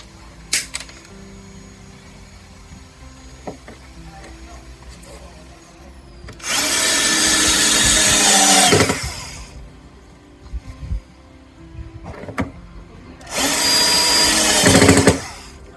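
A power drill enlarges a hole in an old sash window housing to take a new sash pulley, running in two loud sustained bursts of about two seconds each, separated by quieter handling noises.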